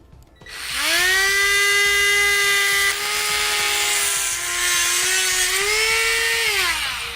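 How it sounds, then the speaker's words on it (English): A high-pitched rotary tool whines steadily while cutting plastic trim on a 2018 Chevrolet Equinox, rising sharply at the start, holding a strong tone with slight dips in pitch as it bites, and sounding close and loud. "So I'm going to be using a rotary tool to Just make it quick and easy"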